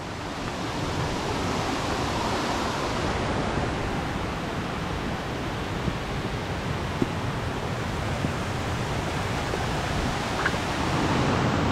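Steady broadband rush of creek water flowing over rocks and fallen trees in Lamington National Park, Queensland rainforest, continuous and fairly loud without pause or talk.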